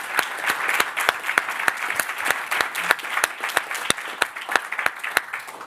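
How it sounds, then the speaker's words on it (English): Audience applauding for panelists at a Skydio X10 drone presentation: a steady patter of clapping with distinct sharp claps standing out, sustained and close, with no talking. "let's give a round of applause for the panelists"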